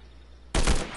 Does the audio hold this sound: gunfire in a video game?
yes